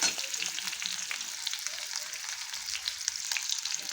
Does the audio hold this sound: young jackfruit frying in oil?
yes